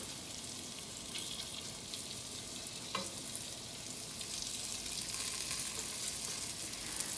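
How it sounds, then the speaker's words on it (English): Chunks of beef stew meat browning in a hot pan, a steady dense sizzle and crackle running throughout with a brief clatter as pieces are spread, no talking. "we're just gonna drop this in. And evenly distribute this in the pan so it starts to brown."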